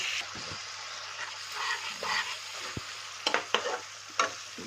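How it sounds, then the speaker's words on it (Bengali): Gobindobhog rice stir-fried with spices in a pan over a low gas flame: a soft continuous sizzle broken by several sharp spatula scrapes and clacks, louder toward the end. "গ্যাসের ফ্লেম লো করে পুরো ভালো করে চালটাকে এই মশলার সাথে ভেজে নেব"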